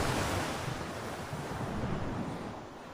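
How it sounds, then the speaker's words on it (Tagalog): Strong surf breaks along the shore of Jomalig Island, a steady loud wash of churning waves with wind buffeting the microphone throughout, no voices present. "Tapos ang lakas ng alon."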